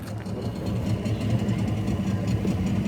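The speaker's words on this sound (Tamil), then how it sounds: "சிங்கிள், ஒருத்தருக்கு மோட்டர் போட், நம்ம ஒருத்தருக்கு மட்டும்." A single-seat motor boat engine idles at Malampuzha Dam in Palakkad, a steady, fairly loud low throbbing rumble with a mechanical chatter that persists throughout.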